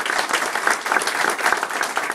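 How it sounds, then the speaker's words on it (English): A crowd at a health center's opening reception for donors bursts into steady, dense applause, many hands clapping together loudly and continuously throughout. "So let's give a round of applause for all of us."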